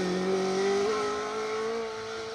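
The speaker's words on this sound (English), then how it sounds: "That is a fit-sounding rally car" A Castrol-liveried Mark II rally car on a forest rally stage roars past at full throttle, a loud, steady engine drone with a slight pitch rise, heard alone without voices.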